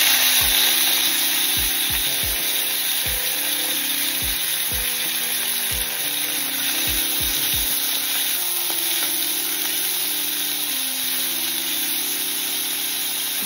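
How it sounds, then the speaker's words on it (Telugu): Karonda berries (vakkaya) fry in hot oil in a village-style kitchen, giving a loud, steady sizzle. A series of sharp taps is heard early on, over a sustained tonal hum. "ఇప్పుడు ఇదే ఆయిల్లో ఇంకొంచెం ఆయిల్ వేసేసుకోవాలి. వాక్కాయలు వేసేసుకోవాలి."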